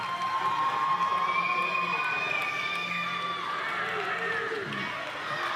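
Crowd cheering and shouting at a powerlifting competition in Orlando, a steady, continuous roar of voices with a commentator talking over it.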